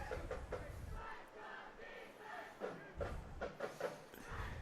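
A vocal crowd of Ranger fans at a high school district semifinal football game cheers and shouts in a loud, surging roar, with rhythmic bursts of yelling rising and falling throughout.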